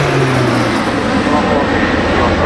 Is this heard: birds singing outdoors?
no